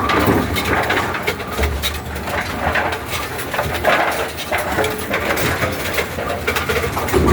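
A bowling pinsetter on lane 12, running without its silencer cord, clatters and rattles steadily for several seconds: dense mechanical knocking and crushing noise inside a bowling center, loud and continuous.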